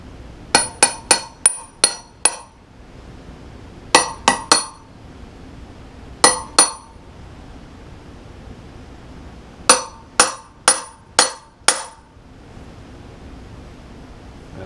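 A hammer taps a seal into a Suzuki Boulevard C50 motorcycle wheel, sharp metallic clinks in quick bursts of several strikes separated by pauses, close and clear in a quiet workshop.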